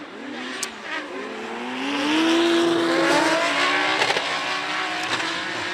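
Drift car at full throttle during a drift competition, engine revving up and holding a high rising whine with tire squeal, loud and close, a few sharp clicks near the end.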